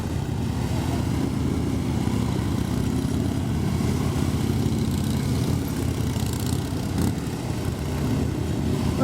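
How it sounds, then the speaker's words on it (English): Police motorcycles running through a skills demonstration, their engines droning steadily and fairly close, with a continuous low rumble that holds level throughout. "The motorcycles are going to end up head to head in the middle."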